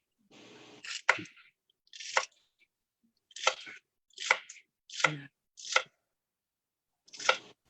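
A kitchen knife chops food on a cutting board while navy bean soup ingredients are prepared, about seven separate crisp chops spaced roughly a second apart, close and clear with silence between them.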